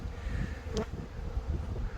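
Honey bees from a colony with a drone-laying queen buzz steadily inside an open hive, a dense continuous low hum that stays close and even for the whole two seconds.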